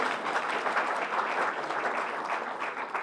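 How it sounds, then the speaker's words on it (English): Audience claps for a state trooper honored for service at a recognition ceremony, producing a moderately faint, continuous patter of applause from a crowd. "You can still clap for him."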